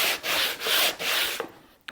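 A sanding block with fresh 120-grit paper rubs back and forth over a wooden fretboard on a thinline bass, giving three long, close, raspy strokes followed by a few quieter scrapes and a light tap.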